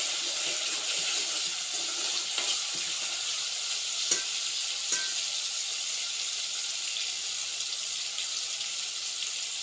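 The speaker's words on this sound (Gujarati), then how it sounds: "લસણમાં સરસ ટમેટું ચડી જાય પછી ડુંગળીને નાખી" Onion is stirred into garlic and tomato frying in a pan, giving a steady, even sizzle with a few soft stirring clicks throughout.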